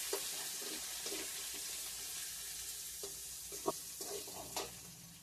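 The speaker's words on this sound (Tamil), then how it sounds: "அதை வந்து நல்லா கிளறி விடுங்க." Chopped onions and green chillies frying in a pan for South Indian beetroot poriyal give a soft, steady sizzle, with a few spatula scrapes and stirring clinks that grow busier toward the end.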